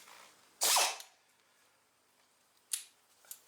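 Air ratchet tightening a nylock nut on an Arctic Cat XF 9000 snowmobile wear bar, a short close burst of pneumatic ratcheting followed by two quicker brief spurts in a quiet garage.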